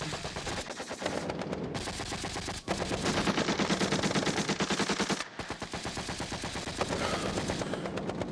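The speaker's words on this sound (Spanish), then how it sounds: "porque le están disparando" Gunfire in an action film battle scene, dense machine-gun bursts rattling continuously and loudly for several seconds with brief gaps, mixed with heavier shots.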